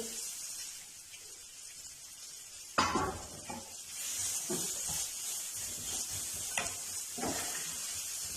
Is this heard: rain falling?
no